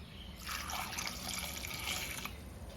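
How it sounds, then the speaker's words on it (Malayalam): A stream of water pours and splashes into a cooking pot of drumstick curry for a couple of seconds, soft and close, with faint background noise around it. "ഇനി അത് വേകാൻ ആവശ്യമായ വെള്ളം ചേർത്ത് കൊടുക്കണം"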